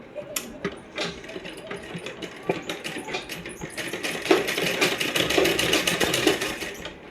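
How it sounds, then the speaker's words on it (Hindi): A sewing machine runs in short bursts as a salwar is topstitched along its edges from the right side, with light mechanical clicks, needle taps and a coin-like clink close by. "हम सिलाई लगाएंगे बाहर की साइड से, सीधी साइड से सिलाई लगाएंगे इसके ऊपर, कोने कोने पर एकदम।"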